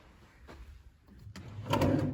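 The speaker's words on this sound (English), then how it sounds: "Here's some storage drawers." Storage drawers in a hotel room sliding and knocking, a few soft scrapes and thuds building to a louder clatter near the end, close by with no talking.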